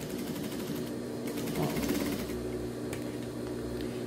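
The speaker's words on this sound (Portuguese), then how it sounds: "nós vamos passar uma costurinha aqui, tá? De meio centímetro." A sewing machine runs a narrow safety seam along the edge of a fabric bib. Its rapid, steady needle clatter continues at moderate volume throughout.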